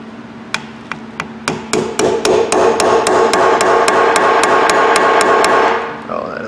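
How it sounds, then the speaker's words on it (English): Hammer tapping a bent part from a 1/2-inch air impact wrench to straighten it, a steady run of about twenty sharp metallic strikes that starts sparse and speeds into a regular rhythm, then stops with a brief trailing voice. "Let's see if we can tap her back straight a little."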